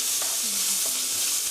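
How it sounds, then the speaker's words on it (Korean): Carrots stir-frying for japchae give a steady broadband sizzle in the pan, with a few soft scrapes and stirring clatters on top, close and fairly loud, no voices. "3분 정도 볶아주세요"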